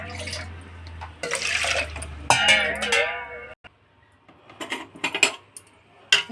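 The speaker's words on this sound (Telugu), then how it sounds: "ఆ గ్లాస్ తోటే 6 గ్లాసులు వాటర్ పోసుకోవాలి" Six glassfuls of water are poured over rice and salt in a pressure cooker for katta pongal, giving irregular close splashing bursts and clinks from the glass, with a brief voice in the middle.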